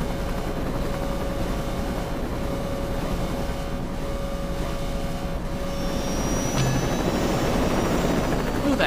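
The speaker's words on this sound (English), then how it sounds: "You think I know how to fly a helicopter?" A helicopter in the video game Saints Row 2 drones steadily with a loud, continuous rotor and engine roar throughout, while voices talk underneath it.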